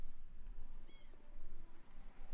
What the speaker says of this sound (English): Hey, kitty cat. Meow.